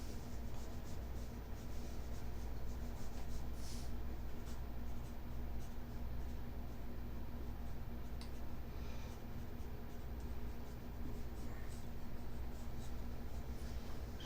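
A pen draws ink lines on paper, a steady soft scratching and rubbing that continues quietly throughout without pauses.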